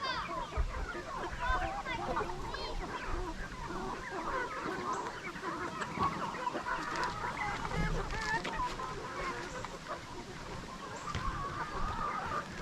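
Backyard fowl, which the owner calls chickens, honk and cluck continuously as a loose crowd near a fence, with someone talking over the birds throughout.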